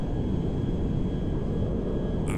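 Steady jet engine roar of an Airbus A310-300 in GTA 5, a broad, constant rumble-like hum that stays even and fairly close, with no speech over it.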